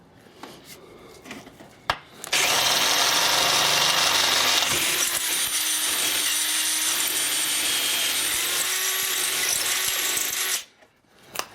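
A power drill bores into wood with a larger bit in a garage, a steady loud whine running about eight seconds after a few short starts, then stopping abruptly.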